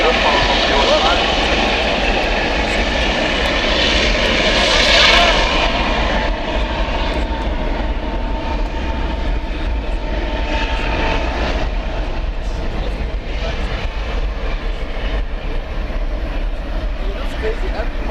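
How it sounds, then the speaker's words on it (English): A jet airliner at DFW airport at night roars steadily and loudly for the whole stretch, a constant broad engine rumble with no breaks. "As close as we can get to an A380 here at DFW"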